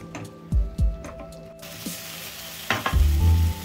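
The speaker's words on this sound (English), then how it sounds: "Fry it for about 2 minutes on medium to high flame." Masala spice powder frying in hot oil over a medium-high flame for a Chingri Malai curry, a steady close sizzle with stirring scrapes and clinks of a spoon against the pan.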